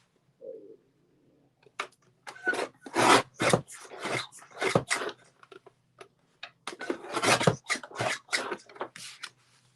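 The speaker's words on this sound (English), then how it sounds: "I'm going to have to trim my papers down a little bit." Paper being trimmed for a handmade mini album, a close, soft rasping and scraping repeated in short irregular strokes, with quiet gaps between bursts.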